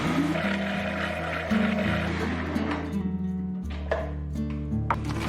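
A high-speed blender grinds soaked, washed rice with a little water into fine paste, a loud steady motor whir with shifting pitch and rattling as the contents churn, running continuously.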